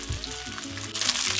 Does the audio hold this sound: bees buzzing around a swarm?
no